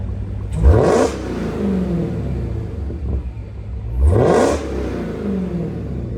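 A Dodge Hellcat with its stock intake revs its supercharged engine twice. Each blip rises sharply and falls back to a rumbling idle, close and loud, with no voices.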